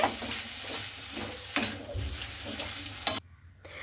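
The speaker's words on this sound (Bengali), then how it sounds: "ধনে পাতাটাকে দিয়ে খুব সুন্দর করে মিশিয়ে নিচ্ছি" Boiled potatoes are mixed with chopped coriander leaves, giving close, soft, irregular scraping and stirring strokes against a pan or bowl, with a few sharper knocks, before the sound drops away near the end.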